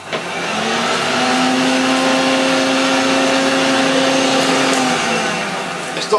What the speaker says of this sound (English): Oh, I've got to vacuum that again, look.